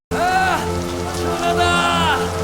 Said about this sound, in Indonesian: hujan yang mereka tunggu akhirnya turun